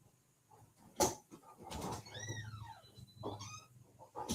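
A pet cat wanting to be let outside gives a few rising, wavering meows mixed with soft murmurs and handling noises, close by in a quiet indoor room.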